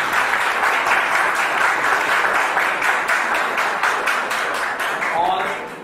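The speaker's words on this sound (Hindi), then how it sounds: "जोरदार तालिया के दरमियान" Loud, sustained applause from an audience at a foundation's fourth anniversary celebration, dense steady clapping filling the whole stretch and easing slightly at the end.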